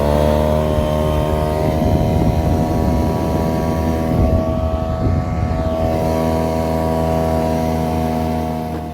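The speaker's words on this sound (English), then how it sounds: "Motor's running better, doesn't seem to be leaking." A dinghy outboard motor with a freshly cleaned carburetor runs wide open, a loud, steady, droning engine whine holding nearly constant for the whole stretch, close by with no talk.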